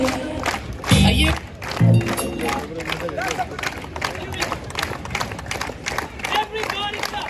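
A street crowd at Leicester Square, London, claps along with a performer, steady rhythmic handclaps under loud music, shouting and chatter from a busy open-air audience.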